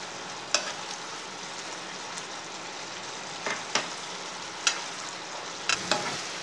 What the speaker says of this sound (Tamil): அதே மாதிரி கொஞ்ச நேரம் ஃப்ரை பண்ணிக்கிட்டே இருங்க.